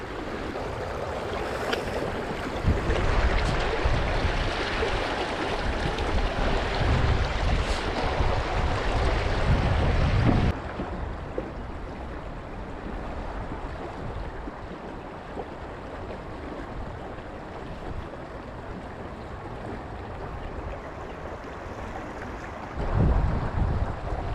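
Wind blows at a river during spring sweetfish fishing, a loud rushing roar buffeting the microphone for the first ten seconds, then easing to a softer steady whoosh before gusting up again at the end.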